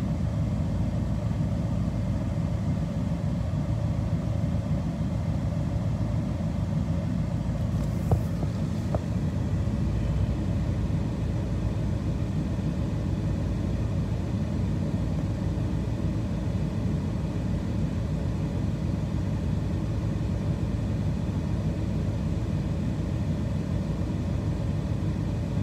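A Nissan Titan pickup truck's engine running steadily at idle, a continuous low rumble that stays even and moderately loud for about twenty-five seconds, with no talking.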